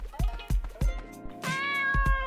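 A cat meows repeatedly in the video game Dave the Diver: several short, close calls in an uneven rhythm, then a longer drawn-out meow toward the end, with soft game sounds underneath.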